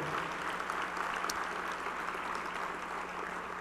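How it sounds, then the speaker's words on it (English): Audience applause fills a civic hall during the San Antonio mayor's State of the City address, a steady sustained wash of clapping from a large crowd that holds at an even level throughout. "Let's give them a round of applause for their work on the East Side Promise neighborhood."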